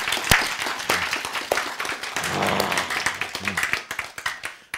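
An audience claps and applauds at a Bible-and-science lecture, a dense patter of many hands spread through the room, moderately loud and lasting several seconds.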